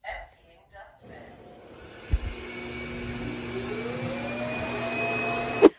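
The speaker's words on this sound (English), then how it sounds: "I can even trigger the emptying of the dustbin remotely from my phone." A robotic vacuum's docking station empties its dustbin with a steady, loud suction roar and a rising whine, starting with a thump and running several seconds before a sharp click at the end.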